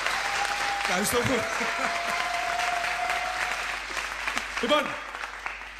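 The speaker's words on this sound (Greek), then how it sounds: "Ένα χειροκρότημα να πάρει τα πάνω" A theatre audience at a Greek stage show applauds steadily throughout, a thick continuous clapping wash, while someone speaks briefly over it near the start and again toward the end.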